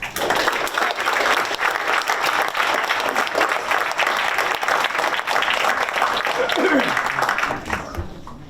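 Sustained, full applause from an audience at a storytelling festival award presentation, dense clapping holding steady throughout before tapering off at the very end.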